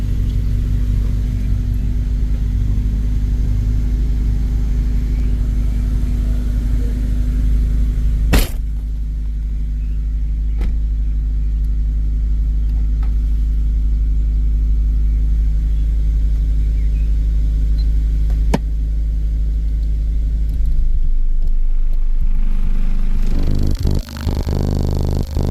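Two 15-inch DD815 subwoofers in an infinite baffle, driven on 4500 W RMS with a 25 Hz test tone, produce a loud continuous deep drone broken by a couple of sharp cracking thumps as the cones bottom out.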